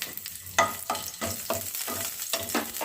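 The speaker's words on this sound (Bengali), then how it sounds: "চার পাঁচটা রসুনের কোয়াগুলো দিয়ে দিচ্ছি" Four or five garlic cloves fry in hot oil in a pan, a soft, close crackling sizzle broken by repeated stirring scrapes at an even rhythm.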